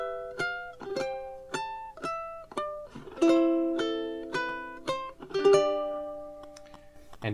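Ukulele played fingerstyle picks out God Rest Ye Merry Gentlemen, with plucked notes ringing one after another and occasional chords, close and clear.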